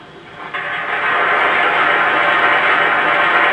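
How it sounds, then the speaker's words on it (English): Steady rushing, hissing coal-loading effect from a Legacy 2-8-8-2 model steam locomotive, starting softly and swelling to a loud continuous pour that holds to the end, with no talk. "The longer we hold the reset key, the longer the coal loading sound will continue."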